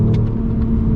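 BMW E46 330Ci coupe engine rumbling steadily, a deep, continuous low growl held close and loud for about a second with no talk over it.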